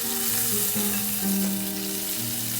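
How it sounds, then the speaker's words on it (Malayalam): Ginger, garlic and sliced green chillies sautéing in butter for paneer masala, a constant close sizzle with a low hum beneath it and soft stirring sounds, no voices. "ഇഞ്ചിയും വെളുത്തുള്ളിയും എല്ലാം ഇങ്ങനെ ബട്ടറിൽ വഴറ്റിയെടുക്കുമ്പോൾ നല്ലൊരു സ്മെല്ല് കേട്ടോ"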